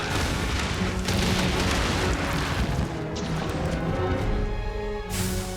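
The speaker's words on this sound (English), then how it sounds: "this Bishaten throws exploding pine cones" Exploding pine cones hurled by the Bishaten subspecies in the Monster Hunter game burst with repeated booms and crashes inside a dense, loud, continuous mix of game sound.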